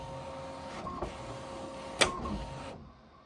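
An embroidery machine traces a design on a hat: a quiet, steady mechanical whir with a few small clicks, ending abruptly near the close.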